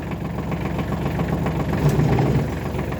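A Kubota L1 255 compact tractor engine idles with a steady, close, low-pitched diesel rumble and light vibration throughout, with no talk over it.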